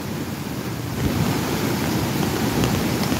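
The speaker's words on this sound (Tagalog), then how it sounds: "Ayan na, nasa ilalim na ng alon. Kaya ayan na, ang lakas." Storm surge waves pound over the pier at Nato Port, Sagñay, Camarines Sur, heard as a continuous loud roar of surf and wind buffeting the microphone, growing heavier after a moment.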